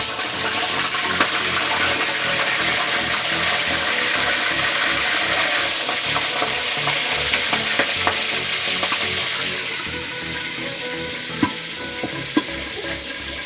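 Milkfish (bangus) frying in hot oil, a loud, dense, continuous sizzle and crackle close by that eases slightly toward the end, with a few sharp pops.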